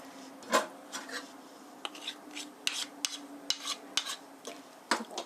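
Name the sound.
stirring curry in a pot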